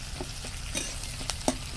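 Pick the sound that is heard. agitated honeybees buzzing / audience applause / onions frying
onions frying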